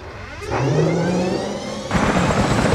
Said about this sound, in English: I'll jump in a helicopter and show off the map.